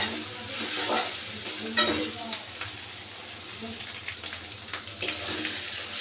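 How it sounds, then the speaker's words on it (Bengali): Onion with ginger and garlic paste frying in a pan while being stirred, a steady close sizzle with scraping stirs throughout, in a Bengali village-style kitchen cooking chicken and ash gourd curry. "এই পেঁয়াজের সাথে আদা রসুনটাকে আমি খুব ভালো করে ভেজে নেব।"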